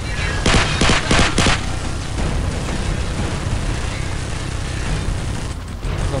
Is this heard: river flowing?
no